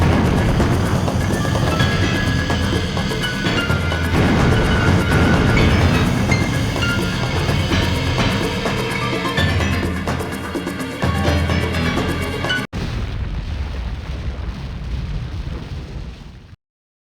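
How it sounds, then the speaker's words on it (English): Missile launch in the video game Sonic Adventure: a loud, sustained roaring rumble with dense crackling bursts, cut off abruptly into a quieter hiss that fades out. "If that missile is launched..."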